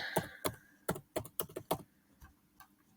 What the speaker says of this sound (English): You can type in your date,